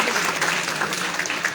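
Audience applause fills a celebratory grand entrance event, a steady dense wash of clapping throughout without pause.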